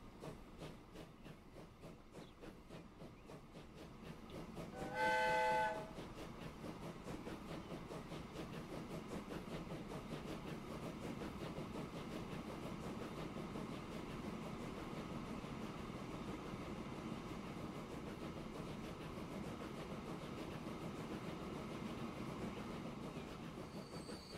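A train rumbles steadily along the tracks in the video game Transport Fever 2, a continuous rolling clatter with a brief tonal whistle or horn blast near the start, then a constant hum throughout.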